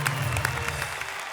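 Applause rises from the audience at a Hindi poetry gathering as a poet from Lucknow is welcomed, a fairly loud, steady wash of clapping with a low hum of voices underneath.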